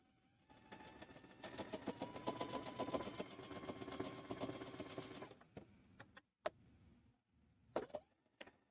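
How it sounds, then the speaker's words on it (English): A domestic sewing machine stitches a quarter-inch seam on a fabric infinity scarf tube, with a steady, fast mechanical whir for about five seconds. It then stops and is followed by a few scattered handling taps. "we'll take a couple stitches, back stitch, and continue"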